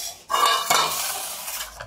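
Rice cake batter for steamed Kerala vattayappam being mixed in a bowl, a spoon scraping and clinking against the dish in a steady, close stirring rhythm after a brief quiet start.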